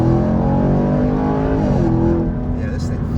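A 2021 Chevrolet Camaro LT1 accelerating hard from inside the cabin, a loud continuous V8 roar rising in pitch, with a voice talking over it.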